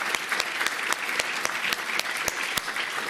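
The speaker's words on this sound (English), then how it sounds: "Let's applaud these people, please." A conference audience at a PyData London lightning-talk session applauds steadily throughout, a dense wash of many hands with a few sharper nearby claps standing out.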